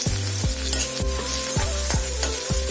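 Fish head fries with chili and turmeric, a loud steady sizzle sounding alongside a regularly repeating low mechanical hum that cuts in and out about every half second, with no talking.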